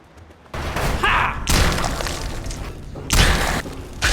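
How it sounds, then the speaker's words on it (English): Mole rats blow apart in Fallout 3 in a string of heavy booming blasts and crunching thuds, each burst loud and close, separated by short rumbling gaps. "Watching these guys explode is so satisfying to me."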